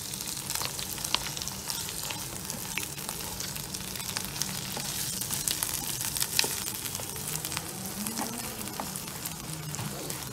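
Hyderabadi biryani masala paste fries with onions and potatoes in a pan, giving a steady soft sizzle with scattered crackles and occasional stirring scrapes throughout, quiet and continuous with no talk.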